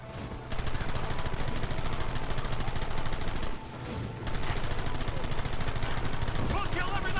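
Dense, sustained gunfire from Red Dead Redemption, rapid shots rattling almost without a break for several seconds, one short pause midway, loud and close, with shouting voices mixed into the din.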